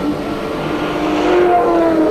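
Turbo touring race cars at Amaroo Park in 1984, engine whine rising and swelling as a car approaches, loud and close over a brief stretch.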